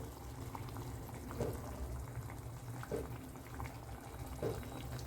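Beaten egg is poured into a simmering kurma, a soft, close bubbling and gurgling of thick liquid with a few gentle plops at regular intervals, faint overall.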